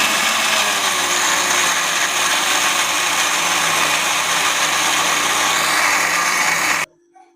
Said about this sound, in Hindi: तो अब हम इसे बंद करके इसे ग्राइंड करेंगे अच्छे से।